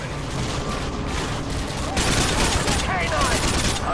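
Gunfire rattles in Call of Duty: Modern Warfare 2, with dense bursts and rapid shots in a loud sustained fusillade, denser in the second half, and a voice speaking over it.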